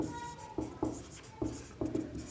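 Chalk writing on a classroom board, a string of short taps and scratching strokes in uneven rhythm, fairly close over faint room tone.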